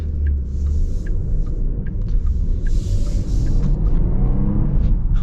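A 2025 Porsche Panamera E-Hybrid accelerates hard in Sport Plus, a deep steady engine rumble heard from inside the cabin with faint high chimes or clicks scattered over it.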